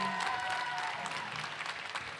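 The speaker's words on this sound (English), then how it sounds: "please join me in giving a brilliant round of applause to the brilliant Brianna Hildebrand" A Comic Con audience applauds the actress Brianna Hildebrand, a steady, dense crowd clapping that sounds distant and fairly soft, continuing evenly throughout.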